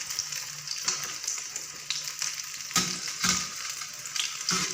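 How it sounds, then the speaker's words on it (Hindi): An egg-coated bread and potato sandwich frying on low heat on a griddle, with a continuous crackling sizzle punctuated by sharper spatters and pops; no voices. "धीमी आग रखें क्योंकि हर चीज़ तकरीबन तैयार होती है, इसकी सिर्फ अंडा फ्राई होना होता है।"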